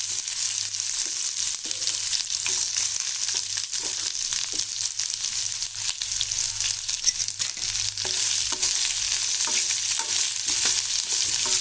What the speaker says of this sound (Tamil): இப்போ இதில் நம்ம நறுக்கி வச்ச வெங்காயத்தை போட்டுடலாம்.